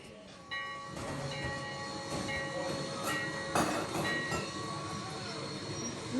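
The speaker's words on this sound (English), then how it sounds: "But for this crossing, the whistle is exactly sounds like this." A Jamestown railroad train sounding its whistle at a crossing, steady sustained horn tones over the rumble of passing railcars, fairly close, with a sharper blast partway through.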